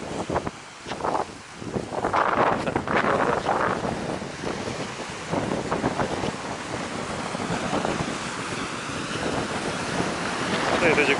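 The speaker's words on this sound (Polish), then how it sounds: "Zobaczcie, jakie wiatry są tutaj, jakie fale." Strong wind roars and buffets the microphone continuously at the seaside in Sukošan, Croatia, with surf and waves crashing throughout and a few indistinct voices underneath.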